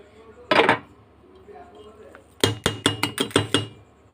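A lid is set onto a container of salted idli batter, giving a single clunk followed by a burst of quick, close clattering knocks as it is settled in place.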